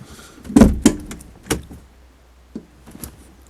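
Door mechanism on a Land Rover 110 2.5 diesel, as a handle clicks and the door unlatches with a couple of sharp near thuds, followed by a softer knock and small clicks, no talk.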